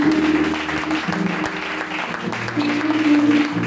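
A church congregation claps to acclaim God, a steady dense applause filling the room, with sustained musical tones running underneath throughout.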